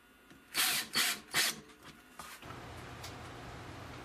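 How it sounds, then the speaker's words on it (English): A power tool gives three short bursts, like a drill driving screws, then a quieter mechanical hum continues. "Put the remaining 3 screws in."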